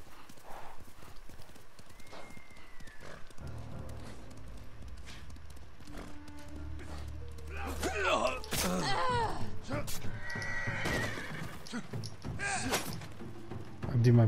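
A horse in the Ghost of Tsushima video game clops along with steady hoofbeats, then gives a loud, wavering whinny amid busy game sounds.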